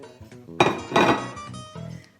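Chopped mussels and prawns stirred into risotto rice in a pan, two or three close metallic clinks and scrapes of a utensil against the pot over a couple of seconds, no voices.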